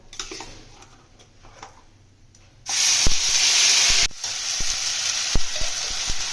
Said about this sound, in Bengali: ফোড়নে পেস্টটা দিয়ে দেবো